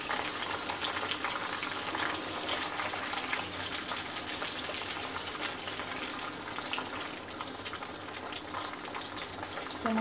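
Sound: frying chicken wings on medium flame

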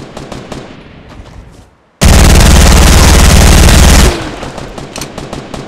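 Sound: golden gun gunfire in the video game Fortnite

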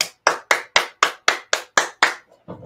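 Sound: speaker imitating applause

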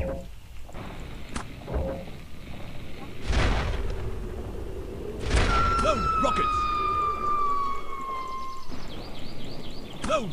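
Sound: rockets firing from airship cannons in video game Air Buccaneers

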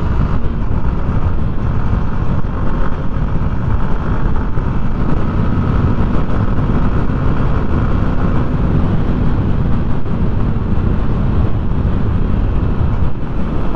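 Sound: Apache motorcycle riding

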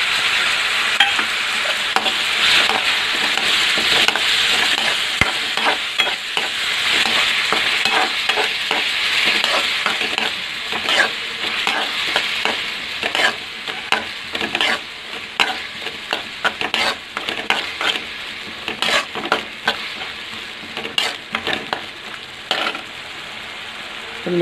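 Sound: tomato paste frying in pan for cauliflower gravy

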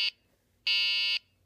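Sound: obstacle buzzer beeping on autonomous RC car

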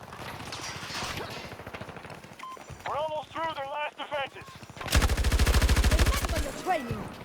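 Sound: gunfire in video game Battlefield 2042

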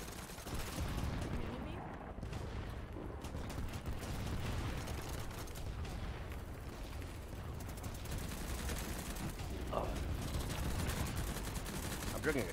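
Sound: gunfire shooting at the player in a video game

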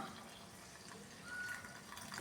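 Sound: water being poured into wheat flour and yeast mixture

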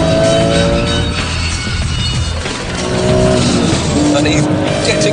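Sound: Porsche GT3 race car on circuit at race start

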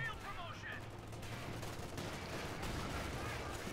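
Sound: heavy machine gun fire in video game Company of Heroes 2

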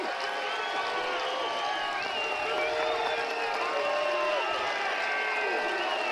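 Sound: stadium crowd at Finley Stadium football game

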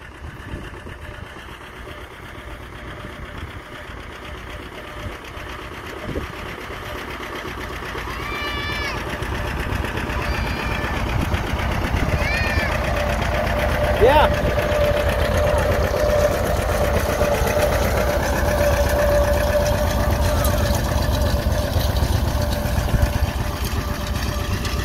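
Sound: John Deere R tractor driving past in fourth gear

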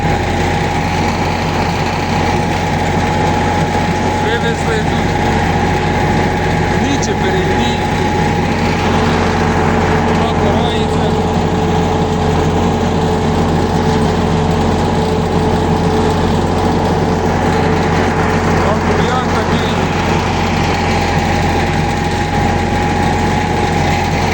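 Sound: tractor engine while ploughing a soybean field

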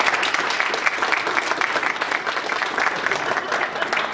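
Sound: audience applause for guest speaker

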